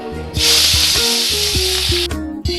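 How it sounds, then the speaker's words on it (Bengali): Chanda fish drop into hot oil and set off a loud, steady hissing sizzle that holds for about two seconds, then cuts off sharply, with a soft musical tone running underneath. "এখন ওই তেলে চান্দা মাছগুলা দিয়ে দেব।"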